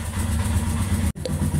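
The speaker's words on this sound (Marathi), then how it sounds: "तर आता बाईक कोल्ड स्टार्ट झाली आहे" A motorcycle just cold-started sits idling with a steady low throbbing rumble close by, broken by a brief cut-out before the chugging resumes.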